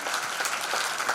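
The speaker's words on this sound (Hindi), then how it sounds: "जोरदार तालियां होनी चाहिए." A school audience at a Teachers' Day event in Didwana claps for a teacher, a short burst of brisk, close applause at moderate loudness with no speech over it.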